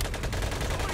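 A quick run of rapid machine-gun shots from the video game Medal of Honor: Pacific Assault, fairly quiet and compressed, lasting about a second.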